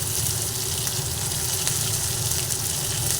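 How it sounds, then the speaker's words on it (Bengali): Vegetables and green chillies frying in a pan for a light rui fish curry give a steady, close, loud sizzle with faint crackles throughout, no voices. "সব সবজিগুলো একটু ভেজে নিলাম"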